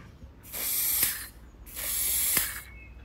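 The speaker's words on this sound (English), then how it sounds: "connect that up to my carburettor cleaner, aerosol, and squirt it through to make sure it's totally clean." Two sustained bursts of aerosol carburettor cleaner sprayed through a Kawasaki Z1B six-cylinder motorcycle carburettor, each hissing for about a second, close and fairly loud, separated by a short pause.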